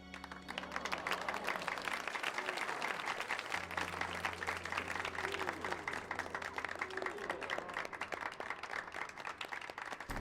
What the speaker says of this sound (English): That clapping.